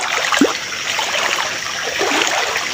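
River water flows and trickles steadily at a branching stretch of river, a continuous close rushing with a faint splash early on and no talk.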